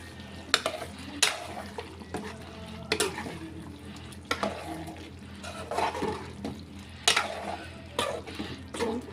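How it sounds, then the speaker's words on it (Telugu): Chicken curry boils in a pan as thick gravy bubbles and pops in irregular bursts close by, with soft simmering between the plops. "ఇలా ఉడుకుతుంది కర్రీ."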